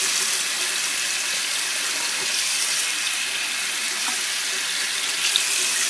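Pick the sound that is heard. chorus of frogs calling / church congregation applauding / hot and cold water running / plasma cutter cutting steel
hot and cold water running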